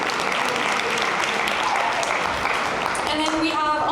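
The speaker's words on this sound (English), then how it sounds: "So round of applause." A room full of people gives a loud, dense round of applause at a Hare Krishna temple gathering in Toronto, continuous throughout, with a voice rising briefly near the end.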